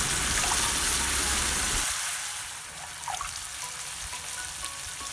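Tamarind water poured over chopped ginger, a loud steady splashing gush that cuts off after about two seconds and leaves a quieter sizzling hiss, with no talk.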